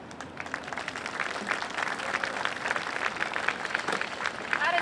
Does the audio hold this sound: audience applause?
yes